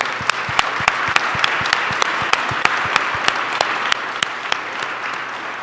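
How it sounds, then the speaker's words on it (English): Audience applause at a public address, steady and sustained, with many individual sharp claps standing out above the wash of clapping. "So let's give them a round of applause."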